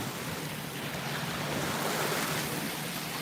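Ocean surf rolls steadily onto Fort Myers Beach at sunset, a continuous broadband wash of waves with some wind across the microphone, even in level and with no voices.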